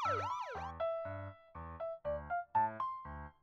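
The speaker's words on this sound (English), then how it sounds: "This is a police car." Police car siren wailing in a rising and falling sweep, then stepping through a series of clipped, honking electronic tones with short gaps, loud and close with no voices over it.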